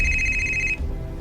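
Phone ringing with an incoming call, a single electronic ringtone tone sounding loud and close, then cutting off abruptly into quiet room noise.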